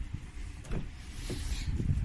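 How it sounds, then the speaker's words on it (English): A 2018 Kia Stinger AWD GT Limited door being opened, with a short electric motor whir and a couple of soft mechanical clicks and thuds, close and fairly quiet, no talk. "I'm going to open up a door."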